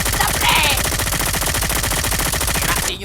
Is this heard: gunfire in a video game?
yes